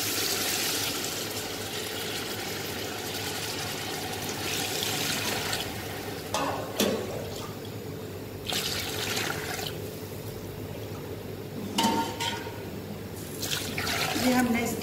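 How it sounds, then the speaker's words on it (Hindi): Water from a tap pours into a cooking pot as two kilos of water go in for chicken wings pulao in a home kitchen, a steady running and splashing stream with some clinks, while a person talks over it. "ये हमने इसके अंदर 2 किलो पानी जो है वो डाल दिया"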